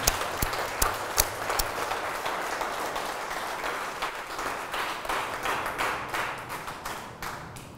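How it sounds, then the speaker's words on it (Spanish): A church congregation claps together in a sustained round of applause during a sermon. The dense, even clapping fills the space and sharp individual claps stand out at the start, then the applause slowly fades. "Un aplauso a la Santísima Trinidad."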